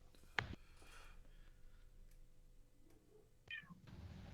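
A house cat meows twice in the background, a sharp near cry early and a softer drawn-out meow later, over a low indoor hum with no talk.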